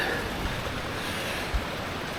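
Water seeps and rushes through rocks beside a hiking trail at Rock Island State Park, a steady broadband wash with wind buffeting the microphone and a brief thump near the end, no voices.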